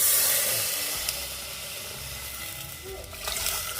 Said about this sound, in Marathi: तर हा मी 1 तांब्या पूर्ण भरून पाणी त्यामध्ये ऍड केलेलं आहे